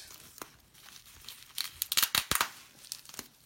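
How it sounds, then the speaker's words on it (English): A new device being unwrapped, with tape peeled off its packaging: close, crisp tearing and crinkling in irregular bursts, louder strips of tape ripping in the middle, no talk. "let's unwrap this, really nice looking device"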